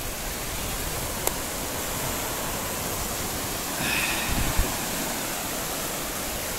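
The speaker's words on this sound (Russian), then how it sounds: "Оно меня сейчас накроет волной." Sea waves wash onto the sandy shore of Scheveningen beach at The Hague, a steady broadband hiss of surf with a slightly stronger surge near the end, no talk.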